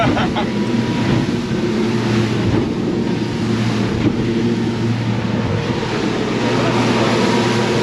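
Steady low engine roar with constant water rush and wind buffeting, a Surtees 700 Gamefisher aluminium boat moving fast on the ocean at about 26 knots, loud and continuous throughout.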